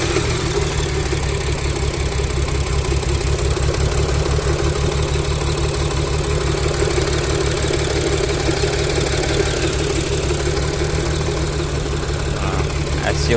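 An Audi V6 engine idling roughly and running incorrectly, a steady loud mechanical drone with an uneven low pulsing throughout, close by.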